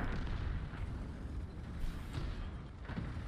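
Tank cannon shots in the World of Tanks video game, a few muffled booms spaced about a second apart over a constant rumbling engine bed, moderately quiet, with no speech.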